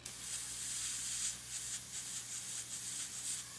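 A soft, steady airbrush hiss sprays India ink continuously onto smooth Bristol board with slight pulsing variations, faint and close, under a low background hum.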